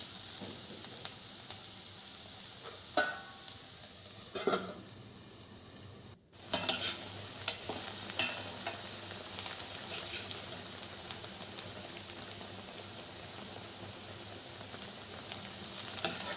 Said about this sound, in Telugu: ఇలా 2 మినిట్స్ 3 మినిట్స్కి ఒకసారి తీసుకొని కలుపుకుంటూ మళ్ళీ మూత పెట్టుకుంటూ మంచిగా మెత్తగా మగ్గనివ్వాలి క్యారెట్ని